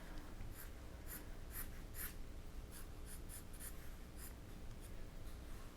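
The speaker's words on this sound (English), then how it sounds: "I'll come on the other side and just do a basic sketch of the neck" Pencil strokes scratch across paper in quick bursts while a basic neck sketch is drawn, the marks close, soft and irregular over a steady low room hum, with no voices.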